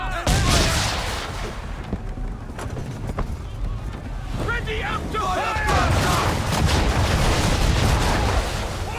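Cannon fire booms during an Assassin's Creed 3 naval battle. Loud volleys roll out over rushing water and battle noise, and voices shout through it.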